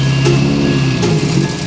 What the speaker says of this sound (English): Yeah, I'm revving it up